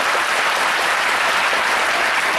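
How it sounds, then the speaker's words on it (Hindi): An audience at a stage event claps hard in sustained, dense applause that stays loud and even from start to finish. "ताली भी जोर से बजा दीजिए।"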